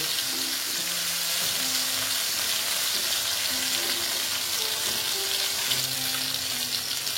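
Pabda fish frying in hot oil, a steady dense crackling sizzle running throughout with faint low tonal hum underneath, close and fairly loud, no voices.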